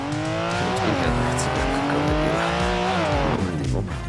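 A race car mod in BeamNG Drive, its engine loud and close as it revs and shifts up and down through the gears, with tire squeal running underneath the whole time.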